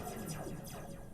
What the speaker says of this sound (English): it's a laser gun.